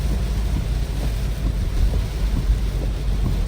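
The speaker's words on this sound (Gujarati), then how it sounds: "વરસાદ ચાલુ છે" Heavy monsoon rain pours steadily close by on a street that is flooding, a dense broadband wash with low rumbling swells that suggest thunder, with no voices over it.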